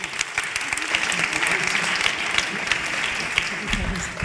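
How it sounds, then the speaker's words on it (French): Audience applause at a conference session on healthcare quality, a dense, steady wash of many hands clapping that holds at an even level throughout, close and full. "Ils ne m'ont pas attendu, mais vous pouvez les applaudir."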